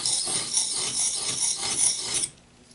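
A steel knife blade rasps back and forth across a house brick in a steady gritty scraping rhythm, close and fairly loud, then stops abruptly near the end.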